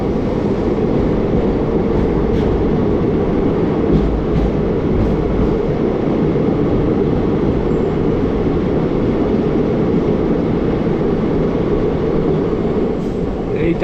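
A train on the Haldibari–Bamanhat line rumbles steadily through a tunnel, a dense, continuous low roar with faint rattling that stays loud and unbroken throughout.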